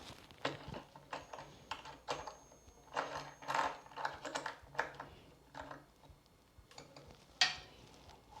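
Knob on a FIFINE T683 microphone mount being loosened, giving a run of close, uneven clicking and ratcheting mechanical taps across the whole stretch, with a sharper click near the end.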